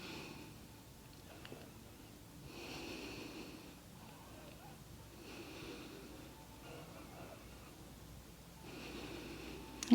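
Slow, deep breaths drawn through the nose during a yoga hip stretch, several quiet inhale and exhale cycles heard up close in a calm room.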